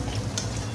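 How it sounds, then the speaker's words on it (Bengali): Potatoes fry and get stirred in a pan at home, a brief steady sizzle with scraping stir sounds, close and fairly soft. "এখন চলছে আলু ভাজা।"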